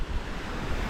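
Ocean surf at Mexico Beach, Florida, with emerald green water, rolling as a steady, loud wash of waves with some wind rumble and no voices.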